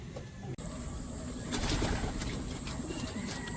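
Pigeons coo softly at their loft, their low, throaty calls repeating over a steady background hiss.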